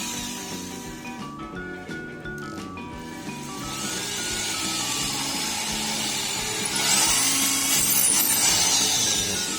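An AEG SB630RE electric impact drill runs steadily at varying speeds, its motor whine rising and falling in pitch over a continuous hum, close and fairly loud with no talking.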